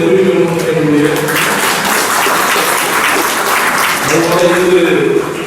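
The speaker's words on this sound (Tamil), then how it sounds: "நம்ம ஒட்டுமொத்த மக்கள் அனைவரும் கரகோஷப்படுத்தி அந்த நன்றியை தெரிவிக்க வேண்டும்" Audience applause for the district police at a service award ceremony, a dense continuous wash of clapping, loud and close, with a speaking voice underneath at the start and end.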